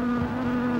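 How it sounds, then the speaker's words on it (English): A bee buzzes continuously, a steady close drone holding one pitch with no pauses and no voices over it. "Oh, there's a bee."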